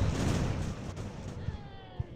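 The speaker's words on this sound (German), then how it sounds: "Noch eine schöne Salve und dann sind die weg." A cannon broadside from sailing warships in the naval battle game Ultimate Admiral Age of Sail: a heavy rumbling roar that slowly fades, then scattered thuds and one sharper distant shot near the end.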